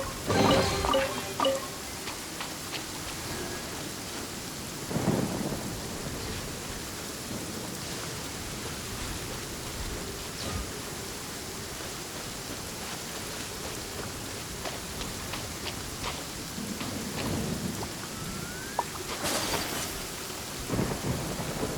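Steady rain hisses throughout a Genshin Impact thunderstorm, with several thunder cracks and rumbles breaking through, one early and a sharp loud clap near the end; no voices.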